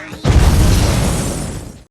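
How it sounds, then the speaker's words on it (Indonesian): A sudden loud boom from a glitter bomb bursts out after a brief quiet moment, then rumbles on with a sustained roar that slowly fades. "Jadi, Groot membuat bom dan meledakkannya."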